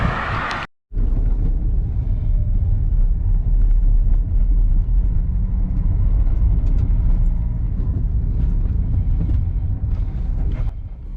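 A car driving along a road, a steady loud rumble of engine and tyre noise from inside the cabin, continuous after a brief silent gap at the start.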